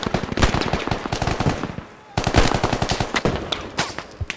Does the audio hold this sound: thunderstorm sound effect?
no